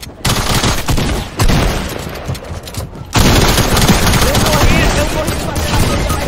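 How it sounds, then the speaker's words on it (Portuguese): Hunting rifle fire in a multiplayer video game comes as loud, dense bursts of shots and impacts, rapid and continuous, with a sharp jump in level partway through. "Dei um tiro randômico com um rifle de caça no ar e acertei a cabeça de um cara."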